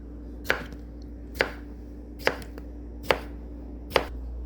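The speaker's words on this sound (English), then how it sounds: "after you slice all the pickles" Thick pickle slices being cut by hand with a knife, five sharp chops spaced evenly about once a second over a steady low background hum, with no talking.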